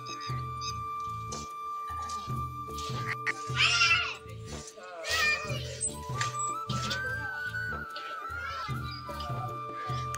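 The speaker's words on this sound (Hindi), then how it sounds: "बिल्ली भी साथ साथ फिर रही है।" A cat meows in a village yard in the morning, giving a few drawn-out cries over a steady low hum, with bird chirps and faint background voices around it.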